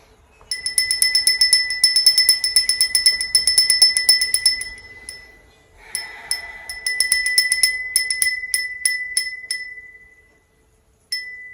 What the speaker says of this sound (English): I'm going to ring my bell to cleanse the energy.